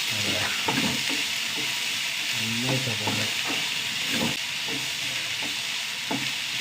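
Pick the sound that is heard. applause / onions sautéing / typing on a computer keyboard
onions sautéing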